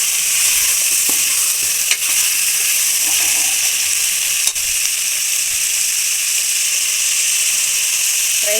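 Vegetables for pulao are stirred in a hot pan, giving a steady bright sizzle and hiss throughout, with a couple of faint scraping clicks from the utensil against the pan.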